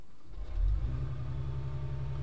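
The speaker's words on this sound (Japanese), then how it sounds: "今エンジンをもうスタートしたいと思いますけれども" A Mercedes-AMG CLE53 with an integrated starter-generator fires up with no cranking, giving a quick low swell that settles into a steady, close idle rumble.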